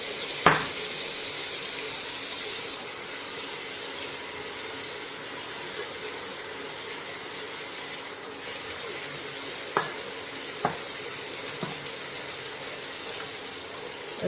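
Mutton with onion, garlic and ginger for spinach curry sizzles softly in a pan as spices are stirred in, a low steady fry broken by occasional sharp clicks and scrapes of the spoon.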